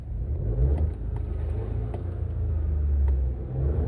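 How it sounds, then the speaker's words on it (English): A 2014 Mini One F56 with a three-cylinder engine gets a quick rev: a low, steady rumble that swells slightly and holds for a few seconds, close and fairly loud, with no talking. "we'll give it a quick rev"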